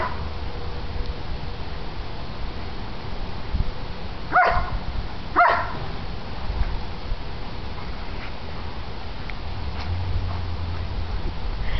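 Dogs playing tag outdoors let out two short, sharp barks about a second apart in the middle, over a steady background hiss, with no talking.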